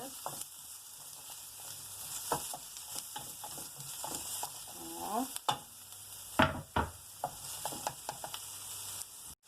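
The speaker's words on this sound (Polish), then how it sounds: "Wrzucamy sobie na gorący olej pokrojoną drobno cebulkę." Finely chopped onion sizzles steadily in hot oil, with stirring scrapes and clicks of a utensil punctuating the crackle, close and moderately loud.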